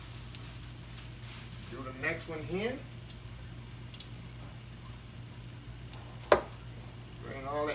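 Battered fish sizzling in hot frying grease, a soft steady crackle running under a man's nearby speech, with a sharp tap or clink near the end.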